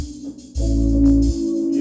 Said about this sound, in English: if you have a Motif 6, then you want to use Compact out of the organ category